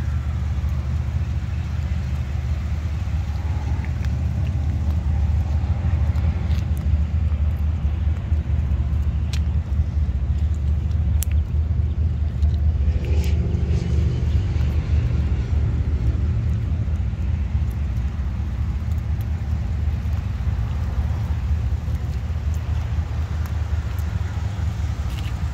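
Steady, smooth cabin hum of a 2010 Lexus ES 350 on the road, low road and engine drone continuing evenly with little change, quiet and unbroken throughout.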